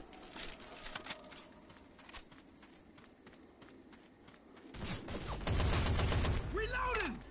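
Machine gun fire in the zombie shooter Left 4 Dead 2, a scatter of sharp shots that gives way to a louder, denser burst near the end, with faint character voices and movement around it.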